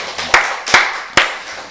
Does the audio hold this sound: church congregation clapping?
yes